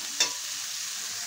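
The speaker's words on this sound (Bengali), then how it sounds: "এইভাবে আবার 1 থেকে 2 মিনিট মতো আমি একটু সবজিটা নাড়িয়ে ছাড়িয়ে নেব" Vegetables for egg fried rice stirred and frying in a pan, a steady close sizzle with one sharp scrape of the spatula near the start, no voices.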